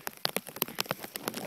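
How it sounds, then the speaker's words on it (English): Heavy rain spattering down outdoors during a walk home along a snowy, rocky path, with dense irregular drops and splashes close by over a steady wet hiss. "it's raining a lot for some reason"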